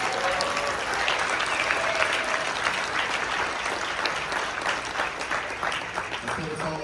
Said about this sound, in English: Maybe by a round of applause, yeah? Let's welcome them